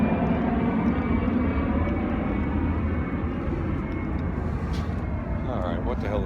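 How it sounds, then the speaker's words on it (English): An airplane flies overhead outdoors, a broad low steady drone that runs throughout beneath a voice and other talk. "there's an airplane up in the sky."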